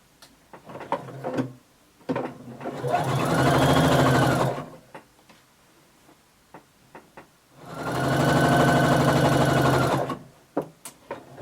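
A sewing machine stitches a wide 1.25-inch seam to form an elastic casing on a maxi dress, running in two sustained bursts of several seconds each, separated by quieter handling clicks and fabric rustles.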